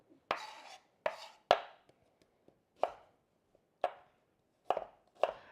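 Knife chopping ginger on a cutting board for a stir fry: about eight sharp, separate thuds with uneven gaps and quiet pauses between them, close and clear, with no talking.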